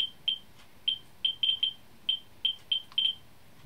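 A Geiger counter about an inch from radioactive table salt from a grocery store gives short, high electronic chirps at irregular random intervals. About a dozen come in under four seconds, sometimes in quick pairs, clear over a quiet background.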